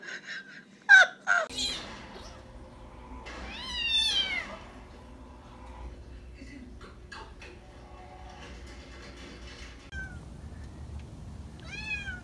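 A cat stuck on a roof meows several times, with short, wavering cries early and a longer drawn-out wail midway, over faint background noise and some scattered small sounds.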